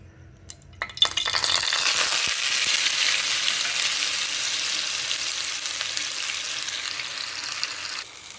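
Stuffed beetroot and tomato drop into hot oil after a couple of faint clinks, setting off a sudden loud hiss that settles into a steady, close frying sizzle and then cuts off abruptly at the end.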